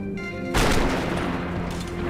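Gunfire in the video game Max Payne 3: a sudden loud burst of shots after a brief lull, followed by dense, rumbling fire that keeps going to the end.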